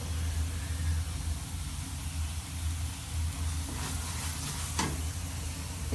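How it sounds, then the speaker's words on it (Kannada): Onion and chili masala frying in a pan, a steady broadband sizzle with a constant low hum underneath and a few brief clinks near the end, no voices. "ಒಂದು ಎರಡು ನಿಮಿಷ ಚೆನ್ನಾಗಿ ಫ್ರೈ ಆದರೆ ಸಾಕಿದು"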